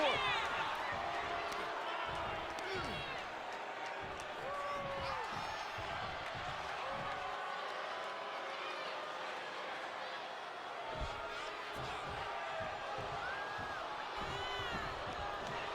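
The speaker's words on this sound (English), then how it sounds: "What a raucous crowd here tonight." A raucous crowd at a WWE wrestling match featuring Omos roars and cheers as a steady wash of noise, with scattered thuds from the ring, while a commentator talks continuously over it.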